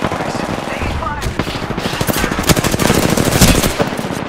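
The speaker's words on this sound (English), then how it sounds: "Taking fire!" Rapid automatic gunfire in a shooter video game, a dense continuous stream of loud shots growing heavier toward the end, with faint in-game chatter underneath.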